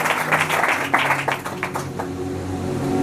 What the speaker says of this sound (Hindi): जोरदार उसके लिए ताली को बजाए परमेश्वर की महिमा के लिए